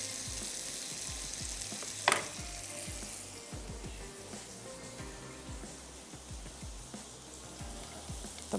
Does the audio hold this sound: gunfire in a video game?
no